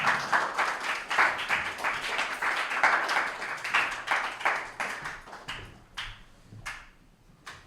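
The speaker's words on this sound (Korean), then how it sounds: "우리 부장님 나오실 때 박수 한번" A youth congregation claps together during a Sunday church service. The applause starts dense and lively, then thins into scattered claps and fades away.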